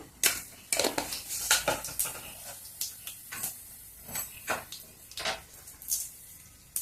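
Cumin and mustard seeds tempering in hot oil: scattered sharp pops and crackles burst irregularly, close and crisp, over a quiet sizzling hiss.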